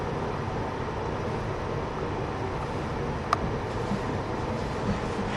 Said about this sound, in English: Approaching Sacramento, the Califoria Zephyr passes through the expansive Roseville train yard.